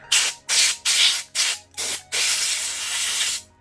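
Compressed air from a can sprays in short close, loud hissing bursts, five quick blasts followed by one longer sustained spray, while an Xbox 360 S Slim power supply is being cleaned.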